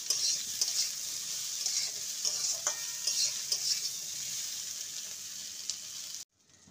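Bitter gourd, pumpkin and potato fry in a pan under a steady hiss and sizzle, with intermittent scraping stir strokes, before the sound cuts off abruptly at the end.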